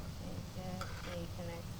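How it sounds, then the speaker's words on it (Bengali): Balushahi dough made from flour frying in oil over medium heat, a soft steady bubbling sizzle with faint crackles, continuous and close throughout. "দেখো এখন বিজ বিজ বিজ বিজ করছে মানে এই যে বাবলসটা উঠছে"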